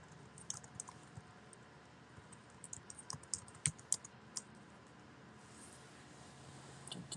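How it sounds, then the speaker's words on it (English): Typing on a computer keyboard, soft irregular clicks and taps in short runs, faint and close, with no voice. "Let me just type this out and see."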